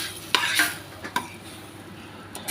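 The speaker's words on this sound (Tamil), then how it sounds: "நல்லா மிக்ஸ் பண்ணிக்கலாம்." A spoon stirs chickpea and cashew kurma in a cooking pot, giving a few distinct scraping and clinking strokes against a soft bubbling simmer.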